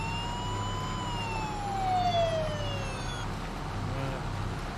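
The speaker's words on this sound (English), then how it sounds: "We're going to hear some sirens for a little bit." Wailing sirens rise and fall together in Farming Simulator 22, moderately faint and steady over a low background rumble, with no talk.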